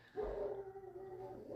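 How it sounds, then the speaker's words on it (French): A dog gives a short, mid-pitched vocalization, a bark trailing into a whine or howl, fairly close in a room with low background noise and no talking. "C'est le chien."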